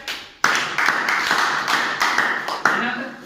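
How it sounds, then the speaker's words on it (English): Classroom students clap together in a lesson on English articles, a few quick rounds of bright hand claps, close and fairly loud, with short pauses between bursts. "So a big clap."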